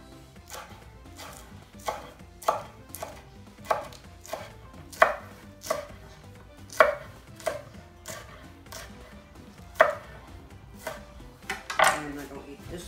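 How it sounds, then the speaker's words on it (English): Green onions are chopped with a knife on a board, making a close series of sharp, irregular knocks that come in quick clusters with short gaps between them. "Now I'm gonna cut these green onions."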